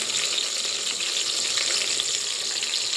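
Sliced onions fry in hot oil in a pan for homestyle sambar, a dense and constant sizzle close up with no voices.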